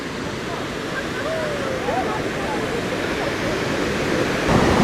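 A river in Yellowstone National Park rushes steadily, a broad continuous wash with faint tonal bits drifting over it, slightly louder near the end.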